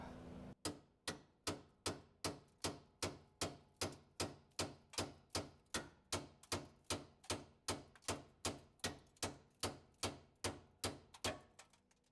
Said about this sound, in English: So we'll just hammer.